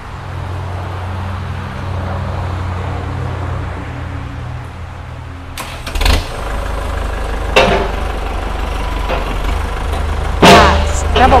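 A used Kubota L5018 tractor engine running steadily during a mechanic's system test, a low, constant idle hum, close and loud, with a few clanks and knocks later on.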